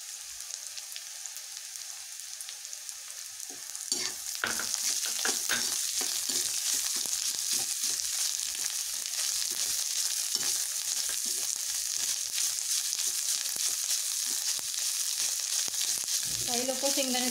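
Squeezed bitter gourd hits a pan of browned onion and turmeric, bursting into a loud, steady sizzle that fills the background with stirring clatter.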